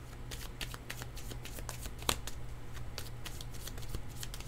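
Tarot cards being shuffled by hand, a steady run of quick papery riffles and flicks with one sharper snap midway, close and fairly quiet over a low steady hum.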